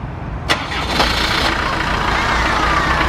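A vehicle engine cranks and catches after its battery is reconnected, then settles into a steady, fairly loud idle that fills the rest of the moment.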